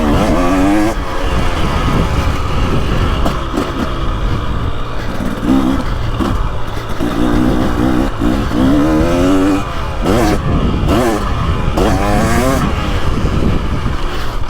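A 2023 KTM 300XC two-stroke dirt bike engine runs loud and steady throughout a ride, its buzzing note rising and falling with throttle changes, with wind rush over the top.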